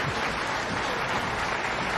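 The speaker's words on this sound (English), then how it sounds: "Gets some applause" Dense applause fills the whole moment, steady and loud, like a crowd clapping together at a snooker final.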